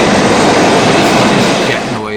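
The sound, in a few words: jet aircraft noise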